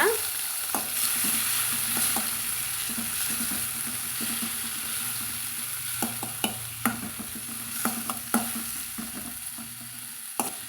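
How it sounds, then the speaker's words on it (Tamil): Chopped tomato sautéed in a pan gives a constant frying sizzle, with repeated sharp spatula scrapes and taps that come more often toward the end; close, with no talking. "இப்போ இதில் ஒரு தக்காளி வந்து வெட்டி வச்சுக்கிறேங்க அதை சேர்த்துக்கலாங்க நம்ம சேர்த்து வதக்கலாங்க"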